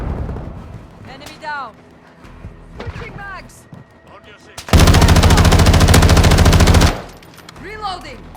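Call of Duty: Vanguard gunfire erupts as a loud, sustained burst of rapid automatic shots lasting about two seconds. Shouted in-game voice callouts come before it and after it.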